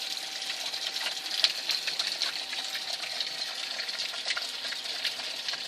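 A small solar-powered water pump runs steadily in a garden bed, giving a continuous close hiss and whir of churning water with faint rapid ticking, unbroken and even in level throughout.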